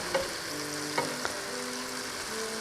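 Flour-coated steak searing in a hot pan for pepper steak, a constant crackling sizzle with a few sharp pops and spits, close and steady with no talking.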